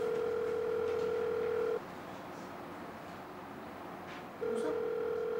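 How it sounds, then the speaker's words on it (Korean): A Korean phone call's ringback tone plays as two long steady beeps separated by a quiet gap of a few seconds, faint background hiss throughout, no speech. "알았어, 조근호 전화해볼게."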